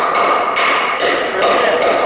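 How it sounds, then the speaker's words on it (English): Hammer trimming a concrete block during block laying, a run of sharp, loud strikes in a steady rhythm, up close and with no voices. "So use that part of the hammer."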